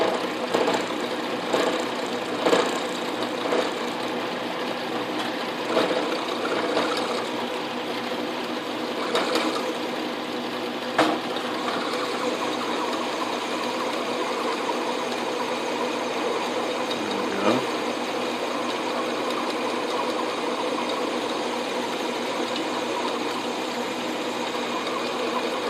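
An Atlas / Craftsman metal lathe takes interrupted cuts with a parting tool, producing a constant loud mechanical whir and rumble with repeated rhythmic knocks and chatter throughout, close up and without talk.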